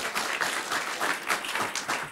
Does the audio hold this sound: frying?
no